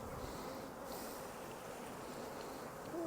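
Honeybees hum in a continuous, low, soft drone while a hive is opened for inspection, the buzzing holding steady throughout, with no voices.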